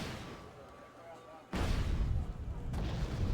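Artillery fire in the Wargame: Red Dragon real-time strategy game: a low rumbling battlefield bed, then a sudden loud booming burst about halfway through that keeps rolling at high level to the end.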